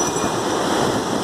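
Sea waves wash onto the beach at Konark, a steady broad roar of surf and water filling the whole moment, loud and close with no voices over it.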